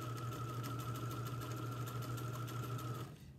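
A sewing machine stitches fabric for a bag with a steady, close, fast mechanical whir and rhythmic needle clatter, running alone for about three seconds before stopping abruptly.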